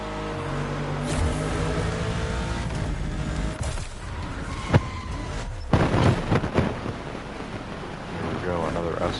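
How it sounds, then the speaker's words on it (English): Car driving through a tunnel in the racing game The Crew Motorfest, a steady roar of engine and rushing wind with a few louder bumps and swells, voices talking in places. "Cars and tunnels in this game always sound so good."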